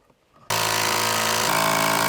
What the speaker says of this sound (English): A few more screws in the wall.